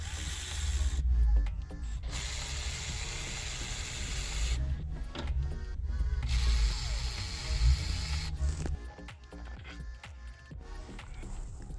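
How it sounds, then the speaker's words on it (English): Cordless Milwaukee ratchet spinning alternator bolts on a 2020-2024 Chevy Malibu, with several bursts of fast mechanical whirring and clicking separated by gaps, close and fairly steady, no talking. "gonna use my Milwaukee ratchet to speed up the process"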